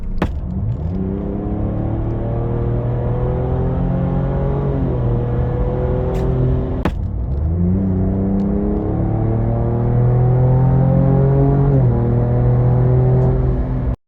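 A Ford Ranger Raptor's 3.0 V6 twin-turbo EcoBoost engine revs up through several automatic gear shifts, the pitch climbing and dropping with each change, loud and continuous.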